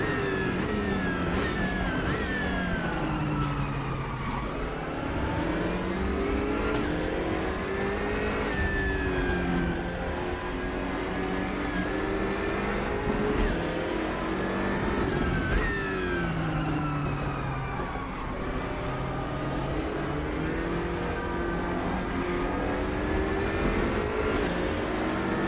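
Race car engines in RaceRoom Racing Experience, a loud continuous roar of several cars with engine pitch climbing and dropping through gear changes, close up and steady with no talk.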